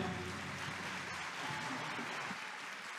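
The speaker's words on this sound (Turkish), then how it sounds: "Alkışlarınızla." Audience applause fills the hall after a Turkish folk music choir performance, a steady, dense wash of clapping at moderate level throughout, with no voices over it.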